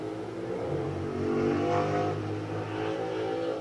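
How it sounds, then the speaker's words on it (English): Car engine revving hard nearby, a loud continuous roar that rises and falls across a few seconds with no voices over it. "why are you revving your engine?"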